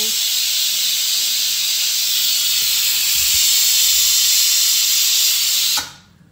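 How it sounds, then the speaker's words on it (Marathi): A pressure cooker of chickpeas vents a loud, sustained jet of hissing steam at close range, holding steady for several seconds before cutting off abruptly. "आनी एक 2 सिटयो जे आसा पळय कुकराक काडटा."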